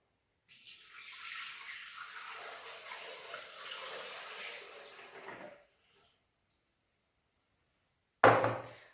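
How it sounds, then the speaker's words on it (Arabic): A Thermomix bowl is washed under running tap water, a steady hissing splash for about five seconds that stops, then a brief loud knock after a pause. "غادي نغسلو لو بول نشفوه ونرجعوه"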